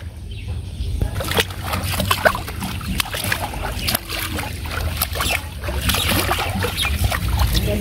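Water sloshes and splashes around a small rowboat as it moves, irregular lapping and knocks close by, with occasional voices in the background.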